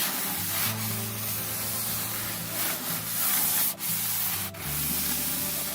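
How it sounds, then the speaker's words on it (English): A table top in a motorhome is rubbed down with wet and dry sandpaper, steady close scratchy strokes in a continuous rhythm with a couple of brief sharp knocks. "a bit of a rub down to get rid of some of those lines"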